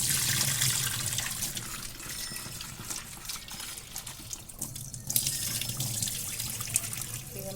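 Tap water splashes and runs steadily onto cut breadfruit soaking in a vessel, close and continuous, with a brief lull midway before the flow picks up again.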